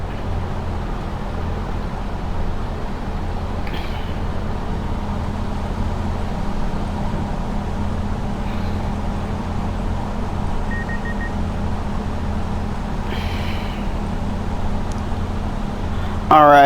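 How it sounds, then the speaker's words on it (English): Tractor engine in Farming Simulator 25 drones steadily throughout, a low continuous rumble with faint beeps occasionally breaking through. "We may have to move that tractor a little bit closer."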